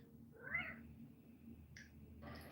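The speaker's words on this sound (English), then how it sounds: "You're just the cutest little cat ever." A domestic cat gives a soft, drawn-out meow, followed by a couple of short faint cries, heard at close range in a quiet room.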